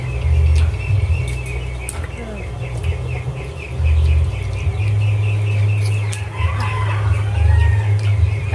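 Chickens bought at a market cluck and cackle through a steady low rumble of background noise, with occasional crowing-like calls rising above it.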